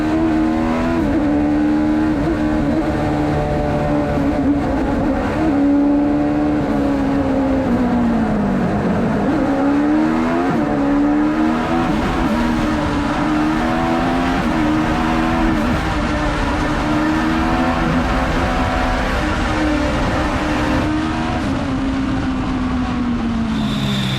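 An Alpha race car climbs the Mt. Washington hill climb road at speed, its engine droning loud and continuous with rising and falling revs as it shifts and accelerates through the run.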